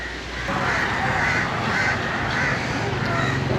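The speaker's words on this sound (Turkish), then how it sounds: "O kadar niye karga var burada be?" Several crows caw repeatedly over a steady outdoor hiss in Sri Lanka, their harsh calls overlapping in a noisy open-air scene.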